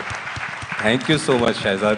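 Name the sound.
audience clapping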